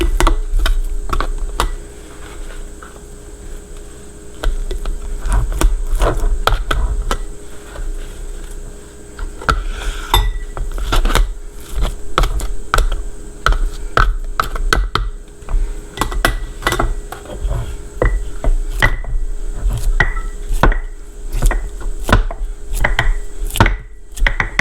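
Pork sausage packed by hand into glass canning jars, a long run of sharp, irregular clicks, taps and thumps close by, with a few short pauses and no voices.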